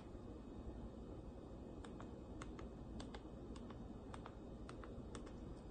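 Steady, light key presses tap out a short burst of typing on a PONYBRO mini wireless keyboard, clustered clicks close by over a constant low hum with no talking.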